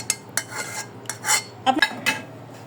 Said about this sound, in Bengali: আর মিশ্রণটাতে এই যে একদম নেড়ে দিলাম যাতে পারফেক্টভাবে প্রত্যেক জায়গায় হয়ে যায়